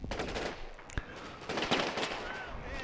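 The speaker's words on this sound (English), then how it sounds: "Nice shot of some artillery landing in the background." Artillery shells land in a World War II tank war video game, heard as a series of sharp, booming impacts and crackling bursts scattered across a few seconds, with no talk.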